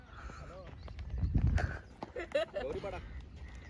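A horse's hooves clip-clop under loud, excited crowd talk and shouting at a village cricket match during a Holi festival tournament, with the hoof beats fairly faint and mixed into the noise.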